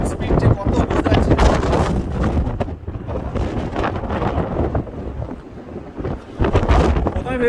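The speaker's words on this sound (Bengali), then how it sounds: "এটা হচ্ছে স্নোস্টর্ম, প্রচণ্ড মানে হেভি হাই ইন্টেন্সিটি স্পিড যে কত বুঝতে পারছি।" Severe snowstorm wind roars and buffets hard against the microphone in Toronto, with gusts near 90 km/h, while someone talks over the blustery noise.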